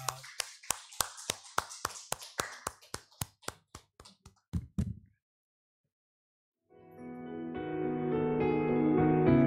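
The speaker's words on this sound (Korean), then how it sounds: "하나님 영광의 박수를 드리겠습니다" Congregation at a Sunday church service in Phnom Penh clapping in unison to give glory to God, about fifteen sharp, evenly spaced claps that stop, followed by a pause and then sustained music or singing.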